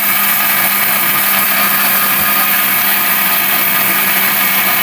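A Miyako electric blender of 1250 to 1400 watts runs at full speed, a loud, steady, high-pitched motor whine held without a break, close up and alone.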